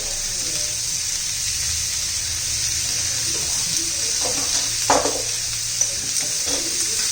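Tomatoes and raw papaya frying in a pan, a steady broadband sizzle running throughout with a few soft stirring scrapes near the end, close and fairly loud, with no talking.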